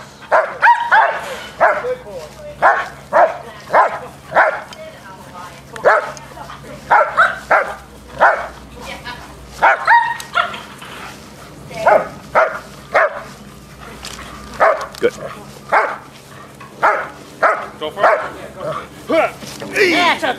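During protection training, dogs bark in steady, repeated bursts, close and loud, with yips and brief whimpers mixed in, while a person talks underneath.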